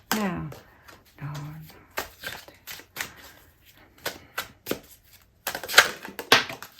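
A deck of cards split and handled on a table, a series of crisp, separate taps and card slaps at an irregular rhythm with brief quiet gaps between them, and a short voice near the start.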